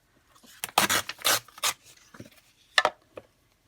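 Scissors cut a sheet of planner paper in half, a quiet series of short, irregular snipping and rustling bursts, close up, with no one speaking.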